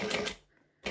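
A sewing machine stitching through layered strap material, a rapid mechanical burst, a brief pause, then another burst starting, close and clear.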